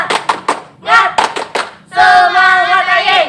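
A group of students at a school orientation session performs a rhythmic clap: several sharp, evenly spaced hand claps in a quick pattern, followed by the group loudly chanting together.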